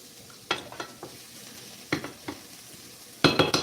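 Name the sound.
chilli ingredients sautéing and being stirred in a pan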